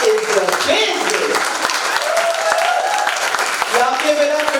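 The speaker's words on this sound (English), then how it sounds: "Give yourself a round of applause." An audience at a comedy show, Burnt Tongue, claps and cheers in a sustained burst of applause with voices mixed in throughout.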